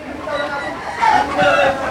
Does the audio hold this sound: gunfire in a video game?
no